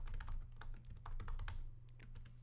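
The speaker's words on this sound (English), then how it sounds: "I'm gonna be typing this a bazillion times" A computer keyboard is used for coding exercises, giving a quick, irregular patter of soft key clicks close to the microphone, quiet and steady, with no voices.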